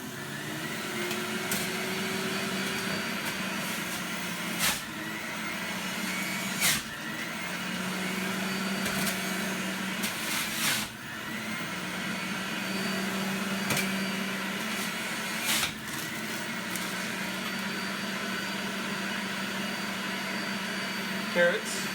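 A juicer pressing apples, a steady motor whir running throughout with periodic sharp bumps as pieces are fed in, close and fairly loud.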